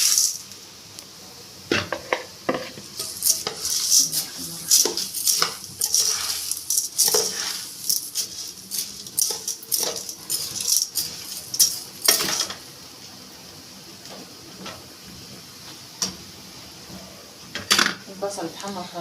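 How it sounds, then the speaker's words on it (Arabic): Pasta goes into a pot with onions and rice for Egyptian koshari, followed by metallic scraping and clinking of a spoon stirring against the pot in irregular bursts, close and fairly quiet. "هنزل بالمكرونه"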